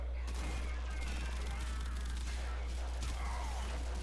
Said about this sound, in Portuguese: Olha o tanto de tiro que eu tô dando nele